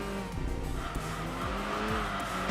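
Japanese race car on street tires in the Enthusia Professional Racing video game, its engine revving loudly while the tires squeal and skid through a corner, with shifting pitch sweeps over a steady engine roar.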